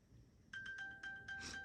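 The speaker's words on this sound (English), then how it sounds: "If you tap on it, it's gonna ring, make your phone ring." An iPhone rings after being pinged from an Apple Watch, its steady electronic ringtone starting abruptly and repeating in short pulses, quiet and nearby.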